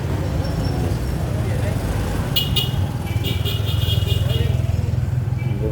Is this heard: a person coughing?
no